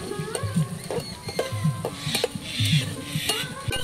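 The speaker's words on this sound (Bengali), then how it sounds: "সবকিছু খুব ভালো করে ভেজে নেব।" Chopped tomatoes and slit green chilies fry in a pan for egg biryani while a spatula stirs and scrapes in a repeated rhythm, with a soft sizzle underneath and no talking.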